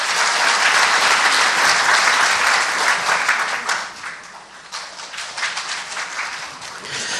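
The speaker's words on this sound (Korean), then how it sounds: "네, 박수로 모시겠습니다." A large audience at a constitutional revision public forum in Daejeon applauds to welcome the city mayor to the stage, loud dense clapping that eases midway then swells again.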